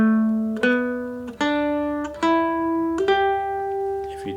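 Mandolin picking a G pentatonic scale, four or five single plucked notes rising one after another, each ringing clearly before the next, played close and alone.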